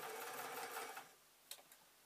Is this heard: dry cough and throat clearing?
no